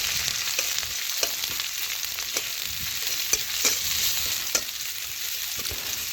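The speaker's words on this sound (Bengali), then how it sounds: "পেঁয়াজ একটু ভালোভাবে ভেজে নেব" Chopped onions frying in a pan with Bengali five-spice and a bay leaf: a bright, steady sizzle close by, broken by regular stirring scrapes, with no one talking.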